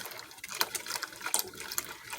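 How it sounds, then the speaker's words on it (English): Liquid butterscotch pudding mixture pours into a pan while being whisked, giving a close, steady trickling and sloshing with light clinks throughout. "You'll pour and whisk at the same time."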